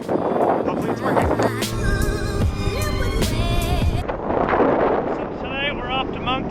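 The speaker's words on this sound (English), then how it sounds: "It's actually pretty windy out right here" Strong wind buffets an outdoor microphone with a steady, loud roar and gusting rumble, while a voice talks throughout.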